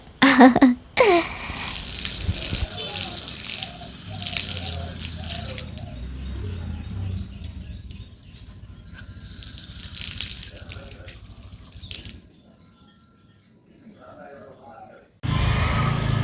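Water from a tap runs into a sink while hands, legs and face are washed, a steady flow that breaks off and restarts, with voices talking over it and a louder burst of water at the end.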